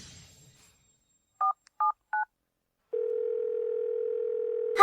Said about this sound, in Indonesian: Helena, kenapa tak angkat telepon ayah?